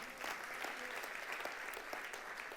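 A church congregation applauds during a sermon, a dense, continuous wash of many hands clapping that sounds somewhat distant and stays fairly faint but steady throughout.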